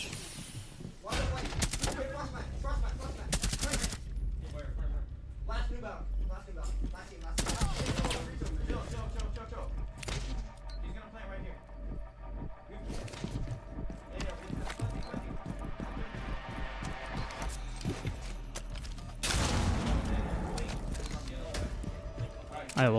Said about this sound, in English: Omar getting shot at.